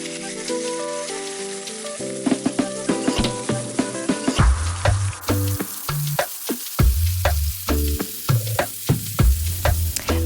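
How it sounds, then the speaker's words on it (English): Catfish fillets hit hot olive or cooking oil in a pan over medium-high heat, setting off a loud, crackling sizzle with rapid spattering pops that grows denser midway. "add in a little bit of olive oil or cooking oil and add in your catfish fillets"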